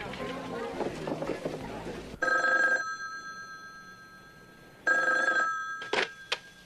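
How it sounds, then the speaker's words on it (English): An old landline telephone bell rings in two loud bursts, then a shorter clipped ring, following indoor background sound with music or voices. "I had to get up to answer the phone anyway"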